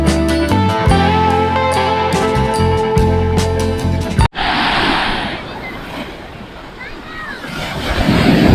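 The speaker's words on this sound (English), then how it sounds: "Waves are quite strong here." Strong ocean surf crashes at Kasarkod Beach in India, a broad roaring wash of waves and wind that takes over abruptly after loud music cuts out midway, building again toward the end.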